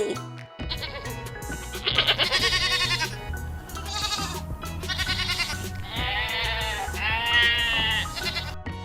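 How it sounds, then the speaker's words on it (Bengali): Young goat kids bleating loudly and close, a series of wavering, nasal cries in several bursts with short pauses between them, no talk. "ছয় ছাগল ছানা লাফিয়ে চলে।"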